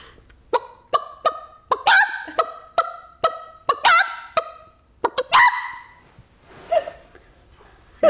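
A person imitates a chicken with a voice, giving a rapid series of sharp clucking bursts in quick rhythm, then a few drawn-out squawks toward the end, close and loud against a quiet background.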